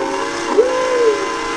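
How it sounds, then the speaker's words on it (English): A recorded steam train whistle plays through computer system audio, one loud rising and falling blast over a steady rolling rail rumble, with no voices. "We need to make sure that everybody can hear James Diffendaffer's trains"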